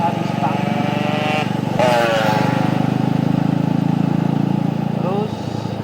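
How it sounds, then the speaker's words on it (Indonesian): An assembled Honda Tiger motorcycle with fuel injection, heard while riding through Semarang in the morning: a steady, close engine drone with a small rise in revs, and someone talks over it. "Nah inilah Tiger ya, jadi getarannya cukup terasa di stang."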